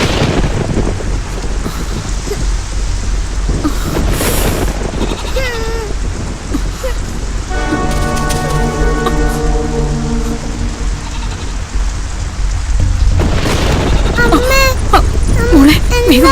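Steady heavy rain hisses throughout with a low rumble of thunder, while voices speak over it and a child cries out near the end.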